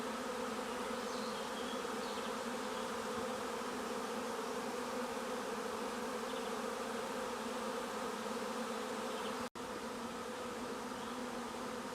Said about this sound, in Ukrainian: Вже хвилин п'ять я стою, бджоли. Все прилітають, прилітають.